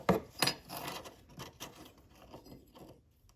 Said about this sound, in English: now we are going to trim the vase.